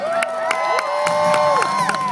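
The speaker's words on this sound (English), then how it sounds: "Put your hands together for AJ." A crowd at a BMX bike stunt show at the Texas State Fair cheers and whoops loudly throughout, with scattered claps and shouts over a steady roar of voices.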